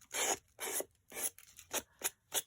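Sandpaper scraping over thin card, seven rhythmic, close rasping strokes, each a short dry scratch with brief pauses between.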